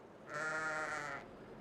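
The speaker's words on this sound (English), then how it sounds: "We have a sheep noise there for those subscribers when Mike Lamb's just subscribed." A single sheep bleat sound effect plays on a live farming-game stream, one wavering, nasal bleat lasting about a second, clear and fairly loud against a quiet background.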